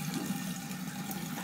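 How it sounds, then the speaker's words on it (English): Running water from a tap pours as a cold rinse after a safety razor shave, giving a steady, close rushing hiss with no voices. "I like the cold water rinse"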